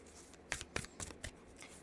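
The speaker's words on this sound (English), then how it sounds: "I'm going to give them a good shuffle." A deck of tarot cards gets shuffled by hand, a few quick papery riffles and flicks in short bursts, close and quiet, with no talk.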